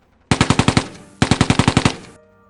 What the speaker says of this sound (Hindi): इस पर पठानों ने फौजी और घोड़ी दोनों पर गोलियां बरसा दी।